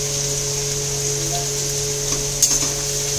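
Chicken with chopped ginger, garlic and green chilli frying in a pan for fried rice and chilli chicken, a low steady sizzle under a constant hum, with a small clink near the end.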